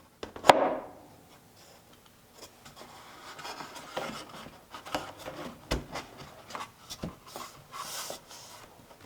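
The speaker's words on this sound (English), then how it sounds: "Now I give everything a final sanding." Final hand sanding of a wooden garden bench built from 2x4s: a sharp knock, then quiet, uneven rasping and scuffing strokes with small taps, close by and fairly soft.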